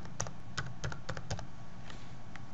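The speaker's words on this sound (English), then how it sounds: "And now if I type in the user input once again," Keystrokes on a computer keyboard while entering user input into a form, a quick uneven run of sharp clicks that pauses midway and resumes briefly near the end.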